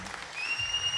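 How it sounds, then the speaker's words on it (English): A crowd applauds at a Gran Turismo Sport championship final event, a brief burst of dense clapping that swells as a voice speaks over it. "One more round of applause, crowd."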